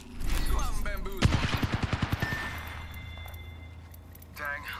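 Rapid automatic gunfire in the battle royale game Apex Legends: a quick burst of about a dozen evenly spaced shots, fairly loud and close, followed by quieter game sounds, with voices talking around it.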